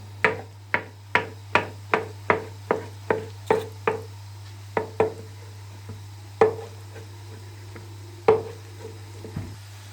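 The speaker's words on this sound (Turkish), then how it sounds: "Patlıcanları doğramaya geçiyorum." Steady knife chops on a cutting board as eggplants are cut for Ali Nazik kebab, a quick even run of crisp thuds that slows into scattered single cuts, close and clear with no talking.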